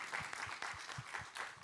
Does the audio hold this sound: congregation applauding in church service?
yes